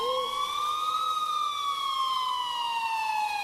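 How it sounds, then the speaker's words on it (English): An emergency siren wails in the distance, a single sustained tone rising slowly and then falling, steady and unaccompanied. "I finally heard sirens in the distance."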